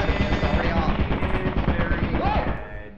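Rapid turret machine-gun fire in Lethal Company, a steady clattering burst lasting a few seconds before cutting off, with faint voices mixed in.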